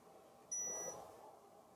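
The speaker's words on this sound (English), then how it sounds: "It's beeping, but no colors are happening." A single short high electronic beep from a paranormal investigation meter sounds over faint background hiss, quiet and close.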